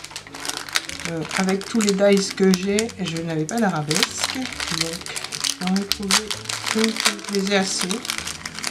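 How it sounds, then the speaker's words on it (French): Paper crinkling and rustling close by, steady and crackly, running under someone speaking throughout. "Désolée pour le bruit du papier."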